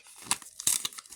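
A crinkly plastic packet holding a soft plush surprise toy is opened, giving a run of sharp, close rustling crackles and crunchy tearing bursts with no talk.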